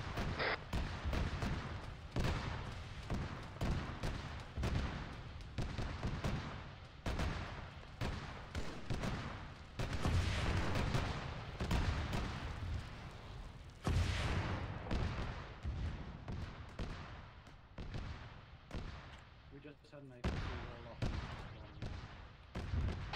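APC turret gunfire in a military shooter game: a long run of heavy, booming shots and bursts in uneven rhythm, close and loud, with voices talking over parts of it.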